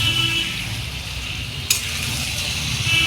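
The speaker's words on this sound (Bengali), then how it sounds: "এটা একটুখানি ভাজবো।" Mutton pieces frying in a pan for boti masala, giving a steady close sizzle with a low rumbling undertone and a single sharp clink of metal midway.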